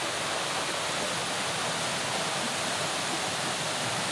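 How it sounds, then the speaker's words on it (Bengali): Napittachora main waterfall at Mirsarai, Sitakunda, a steady broadband roar of falling water filling the whole clip, close and loud with no break. "আমার সামনেই হচ্ছে সেই ঝর্ণা।"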